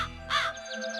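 A crow gives a single short, harsh caw up close, with faint bird chirps trailing afterward.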